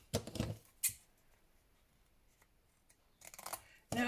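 Scissors cutting paper pieces for a no-sew tag booklet by hand, a few short crisp snips in quick clusters near the start and end, separated by quiet pauses, close and moderately loud.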